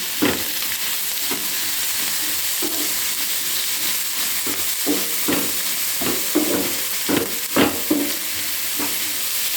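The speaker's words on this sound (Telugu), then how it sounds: "ఇలా చక్కగా కలిపేసుకుందాం." Beans fry in a frying pan as they are mixed with salt: a steady sizzle runs throughout, punctuated by repeated scraping stirs at an uneven rhythm, close and fairly loud.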